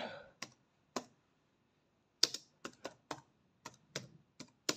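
Computer keyboard typing a short search query about motor training nearby, with scattered key clicks in uneven bursts and pauses, close and clear with no talking.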